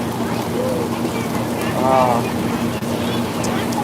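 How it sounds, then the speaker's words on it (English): Heavy rain pours down hard outdoors at a county fair, a dense continuous hiss with steady rumble, close and loud throughout with no pauses. "this rain is coming down pretty hard now"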